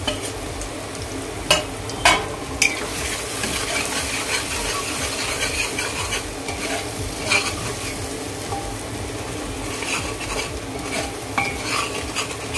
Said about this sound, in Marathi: एक 2 मिनिटं फक्त आपण हे परतून घेऊया.